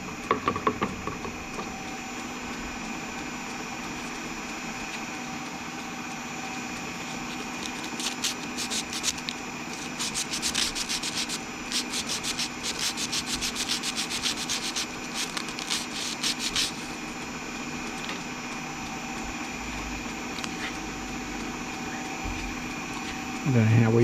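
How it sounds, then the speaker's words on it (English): Emery tape rubbed around a hot metal joint, a continuous scratchy abrasive rasp with a faster patch of rubbing in the middle, over a steady background hum. "And a rub around with a bit of emery tape"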